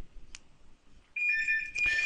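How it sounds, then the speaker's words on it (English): A telephone ringtone starts partway through, a bright repeating electronic ring that sounds loud and close after a quiet stretch with a faint click. "One second, the phone's ringing."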